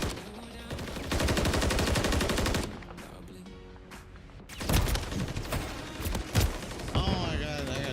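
Rapid automatic gunfire in a Call of Duty League match, close and loud bursts over a steady game din, then scattered shots and mechanical clatter as speech comes in.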